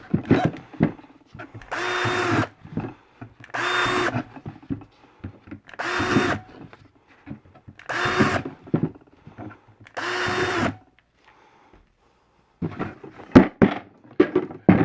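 Power drill boring holes into a plastic bucket, five loud bursts of whirring each lasting about a second with short pauses between, followed by lighter clatter and handling.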